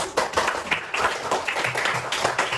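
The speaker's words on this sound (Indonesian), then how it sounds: "untuk kelompok yang sudah tampil kita beri apresiasi dengan tepuk tangan semuanya" A classroom of students claps for a group that has just presented, a few uneven bursts of close hand clapping with short pauses between them.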